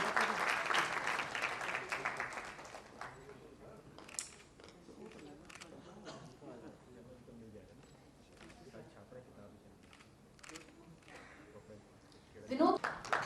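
An audience at a formal event in New Delhi breaks into brief applause that fades quickly, leaving quiet room noise, scattered clicks and murmuring voices, then a short louder burst near the end.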